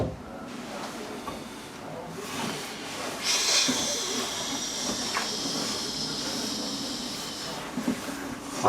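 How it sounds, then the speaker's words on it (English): A person hisses sharply to drive off a cat that is about to spray garden plants outdoors, a breathy sustained hiss standing out over steady background noise. "I'm hissing because there is a cat that is about to spray all over my plants"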